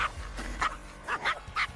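Small dog yapping in a series of four or five quick sharp barks at moderate distance, alone, with a low background rumble.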